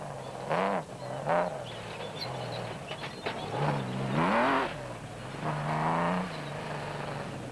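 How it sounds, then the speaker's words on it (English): A Porsche engine on a Class S car in the Limpopo 400 rally revs hard, rising and falling in several sweeping bursts, loud and near over rough background noise. "With Class S leaders Gosler and Carolyn making that Porsche engine of theirs scream"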